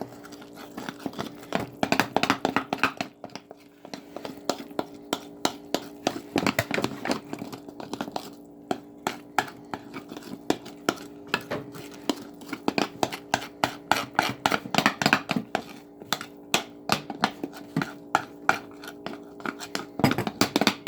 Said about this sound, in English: You mix up your batter.